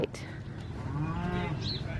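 One drawn-out moo from a cow on a homestead, moderately distant and fairly quiet, with light outdoor background noise and no speech.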